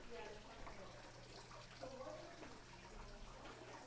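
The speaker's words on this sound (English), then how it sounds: "I told you could hear the water from that water feature" Garden water feature in a residential property, a faint, steady trickle and splash of running water under quiet background noise and a low hum, with a voice faintly present.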